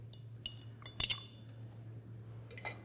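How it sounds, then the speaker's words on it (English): A big ice cube drops into a cocktail glass with a few bright clinks, one soft tap first, then a cluster of sharper knocks and a last clink, close up over a low steady hum. "And then you're just going to take a big ice cube"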